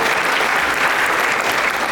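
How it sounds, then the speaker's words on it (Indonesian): Audience at a youth integrity seminar claps together in a steady, dense burst of applause lasting a couple of seconds, loud and continuous without any voices over it. "Tepuk tangan dulu kita semua."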